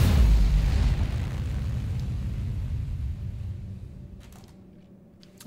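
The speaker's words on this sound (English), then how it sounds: "Fire photon torpedoes." Photon torpedoes fired and exploding in a space combat video game, a deep booming blast that rolls into a long fading rumble, loud at first and dying away.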